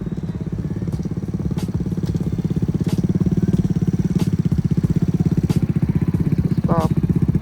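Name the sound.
Kawasaki Z125 motorcycle ridden by a learner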